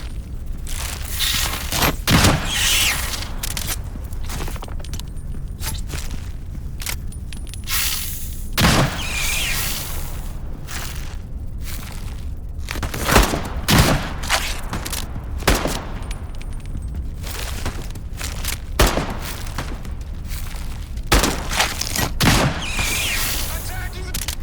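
Gunfire and booming explosions in the Into the Radius 2 video game, recurring sharp shots and heavy blasts over about twenty-five seconds against a constant noisy background.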